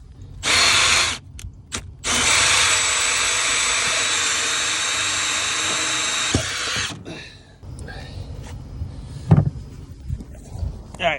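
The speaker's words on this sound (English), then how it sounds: "We're going to drill a hole through the shingles and set a 3/4 pipe just outside the shingles." A power drill whirs in a short burst, then runs steadily for about five seconds drilling through roof shingles, followed by clunks and quiet handling sounds.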